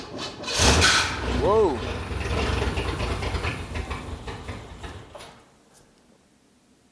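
A Pontiac Phoenix left sitting for over twenty years cranks, catches and runs with a rough rumble that fades out near the end, while a voice briefly exclaims over the start.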